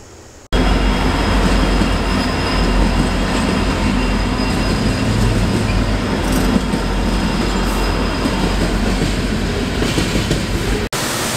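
Coal train hauled by an EMD diesel locomotive, its engine howling in a loud, steady rumble with rolling rail noise that holds continuously after a sudden start.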